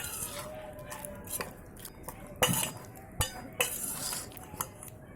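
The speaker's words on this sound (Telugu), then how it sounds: "గిన్నెలోకి సర్వ్ చేసుకొని కలుపుకుంటున్నాను" A spoon stirs cucumber chutney in a bowl, with a soft continuous scraping broken by several sharp metallic clinks against the rim.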